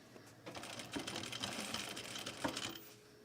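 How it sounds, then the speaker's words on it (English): A sewing machine top stitches around the perimeter of a garment duffle bag, a steady close, fast mechanical whirr with a rapid needle clatter running throughout the short stretch. "I'm going to top stitch around the perimeter of this thing."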